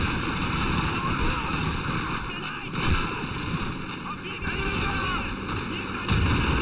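Sporadic gunshots and heavy battle noise from the Call of Duty 2 video game, a few sharp blasts standing out over a steady roar of combat, with someone talking over it.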